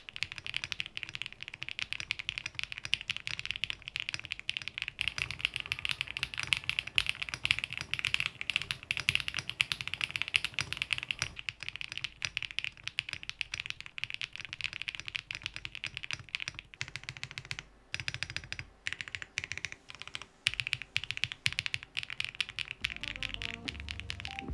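Fast, continuous typing on a mechanical computer keyboard fitted with a palm plate, which gives it a light, soft sound. Dense, even clacking runs steadily up close, with no voices.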